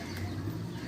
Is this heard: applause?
no